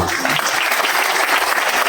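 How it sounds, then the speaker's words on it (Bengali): Dense audience clapping at a talk gathering, loud and continuous throughout with no pauses. "আবারও একটু জোরে করে তালি"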